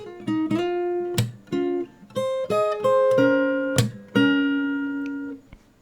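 Fingerstyle acoustic guitar plays the pre-chorus of a song, with plucked notes, slides and sharp percussive slaps in a steady rhythm, up close and alone.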